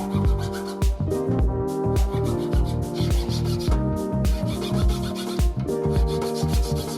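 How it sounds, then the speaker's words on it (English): A metal file rasps steadily across a wax ring model, sizing the outside of a solid gold garnet sand inlay ring; close, loud, continuous rhythmic strokes with no speech. "take a file and then file it down to the finished size on the outside"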